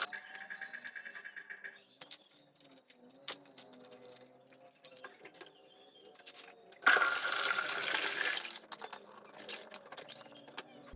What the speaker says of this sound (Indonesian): Kita tuang air akinya ke dalam ember biar nanti bisa kita pakai kembali.